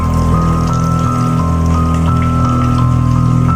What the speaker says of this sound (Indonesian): Palingan hujan euy.